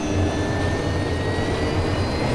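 A helicopter in the video game DayZ, a loud steady engine drone with a constant rotor whine, continuous and close with no talk.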